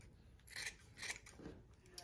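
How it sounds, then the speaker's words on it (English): Scissors snipping through macrame cords on a square knot coaster, two or three quiet, close, crisp cuts in quick succession. "you're going to cut the cords off"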